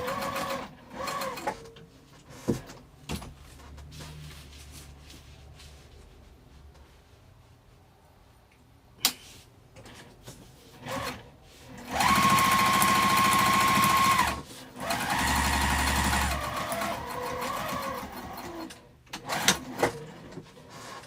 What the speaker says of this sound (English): I'm quilting from the wrong side. If you have trouble, you can use your walking foot.